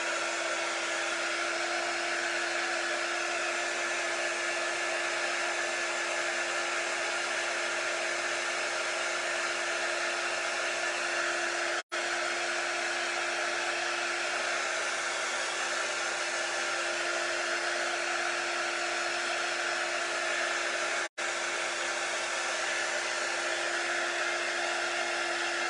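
A hair dryer blows steadily on chalk paint, a loud continuous whir with a constant pitch, briefly cut off twice by short switch-offs.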